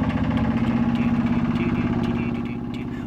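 Chuffing steampunk private car engine from the video game 80 Days, a steady rhythmic mechanical pulse running close and loud throughout, easing slightly toward the end with no talk.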